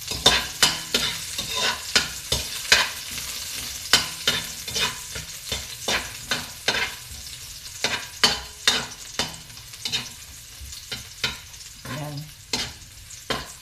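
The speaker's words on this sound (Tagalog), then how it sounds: "I-brown natin itong ating ano. Ayan, aming bawang." Garlic sautéing in hot cooking oil, a constant sizzle broken by a rapid series of sharp spatula scrapes and stirs against the pan, close up, with a brief word spoken near the start.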